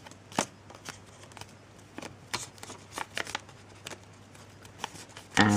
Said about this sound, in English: So we're going to open it up and then fold this down.